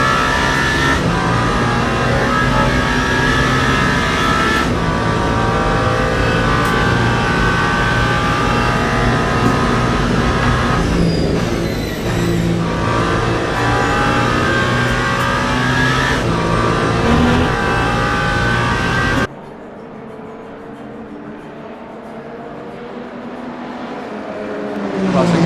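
Porsche race car engines roar loud and steady in the Le Mans Ultimate game at the 24 Hours of Le Mans, with rising revs near the middle, then the sound drops to a quieter, distant whine that swells again at the end.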